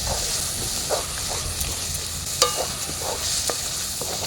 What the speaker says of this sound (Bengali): এবার ভালোভাবে মশলাটাকে কষিয়ে নিচ্ছি আমি